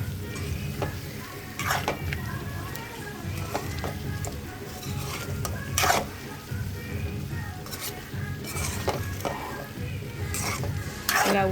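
Potato fry is stirred in a hot pan, with a spoon scraping and clanking against the metal in repeated strokes over a continuous loud sizzle. Brief voice sounds surface faintly now and then.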